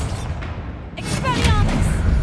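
Bombarda spell blast in the video game Hogwarts Legacy, a deep booming thud with crackling burst after a short lull, set against a dense game soundscape of rumbling low noise and high magical shimmer.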